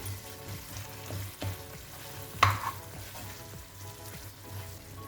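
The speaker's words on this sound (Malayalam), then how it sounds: "നമുക്കിനി ഇതിലേക്ക് 2 ടേബിൾ സ്പൂൺ പീനട്ട് പൊടിച്ചത് ഇട്ട് കൊടുക്കാം. അതൊന്ന് മിക്സ് ചെയ്യാം." Ground peanuts being stirred into chicken frying in a pan, a steady close sizzle with scraping spoon strokes and a sharper clatter midway, no voices.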